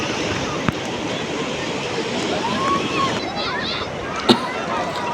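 Sea waves surging and breaking at Puri beach, a steady broad wash of surf with wind noise, people talking and calling out over it.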